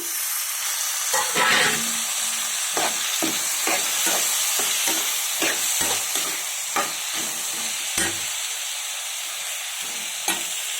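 Brinjal pieces fry and sizzle in a pan with ginger garlic paste, a steady hiss broken by repeated scraping stirs and clicks of the spoon, close and moderately loud with no talking.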